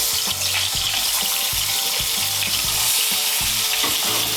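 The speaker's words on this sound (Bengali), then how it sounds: "ওই তেলের মধ্যে আমি বেগুনগুলোকেও ভেজে নেব।" Eggplant pieces fry loudly in hot oil in a pan for a Bengali fish curry with potatoes, a dense continuous sizzle with repeated rhythmic stirring clunks throughout.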